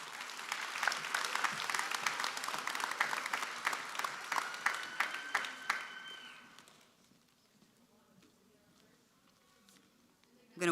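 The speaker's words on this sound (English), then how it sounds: "Please give all of them another round of applause." Audience applause at a health sciences university commencement ceremony, loud sharp clapping that fades out around the midpoint, leaving a quiet hall with faint rustling.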